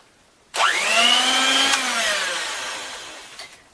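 A food processor churns thick cherry cake batter, its motor starting abruptly and holding a loud, steady whine that slowly sags under the heavy load before cutting off, with a faint clunk near the end.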